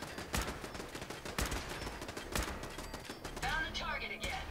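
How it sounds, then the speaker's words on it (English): Gunfire in Fallout 4's wasteland: several spaced, punchy shots ring out at uneven intervals over a busy background, with a brief whirring mechanical sound near the end and someone speaking at moments. "Okay, who's shooting there?"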